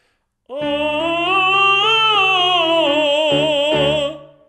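A man sings one long, strong full-voice note, rich and resonant, sliding gradually lower with slight vibrato before a couple of short restarts and a tapering finish.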